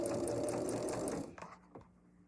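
A sewing machine runs a quarter-inch seam on quilting pieces for a flower table runner, a dense, rapid mechanical whirring with steady stitch pulses for just over a second before stopping, followed by a few faint handling clicks.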